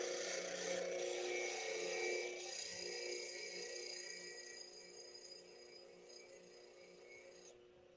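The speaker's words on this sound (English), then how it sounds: "It's sharpening the whole bevel." A skew chisel's bevel is honed on a woodturner's sharpening stone, giving a continuous gritty rasping and rubbing, steady and close, that gradually softens and then breaks off abruptly near the end.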